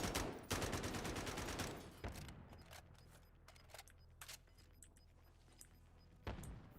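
Gunfire in a Call of Duty battle royale match opens with a loud rapid burst. Scattered single shots and shorter bursts follow at a distance, then fade toward quiet.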